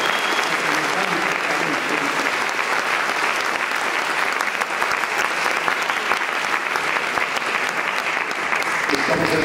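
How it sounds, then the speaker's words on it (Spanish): Audience at a music awards ceremony applauds steadily and loudly for the full span, a dense unbroken clapping texture from a large crowd, with no pause or swell. "para que les pido el aplauso"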